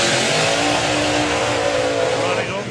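Supercharged Outlaws class drag car at a nostalgia drag racing meet, a loud engine roar building and holding under nearby voices talking.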